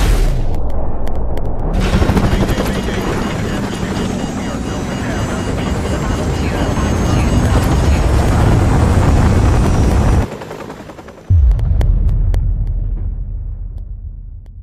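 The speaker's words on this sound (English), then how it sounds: "Incoming missile." Incoming missile explodes in Call of Duty Modern Warfare Remastered, a huge roaring blast that fills the scene for several seconds, cuts out briefly, then returns as a lower rumbling aftermath.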